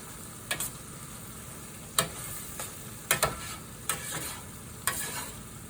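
Steak for tacos cooking in a pan with almost all its juice cooked off; a soft steady sizzle is broken by about six sharp scraping or clinking stirs at irregular intervals.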